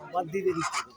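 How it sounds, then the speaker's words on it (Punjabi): A fowl at a goat and livestock market in Mullanpur gives a brief, close, honking cackle of a few syllables lasting about a second. "ਬਰਬਰੀ ਦੇ ਮੁਰਗੀਆਂ ਹੈ"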